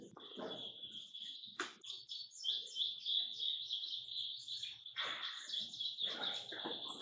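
Birds chirp outdoors in a sustained high, bright trill layered with quick tweets and scattered rustling bursts. The sound is moderately close and carries on throughout.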